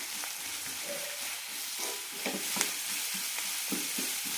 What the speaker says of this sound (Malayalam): സവാള നന്നായി ചുവക്കുന്നത് വരെ വഴറ്റിയെടുക്കാം.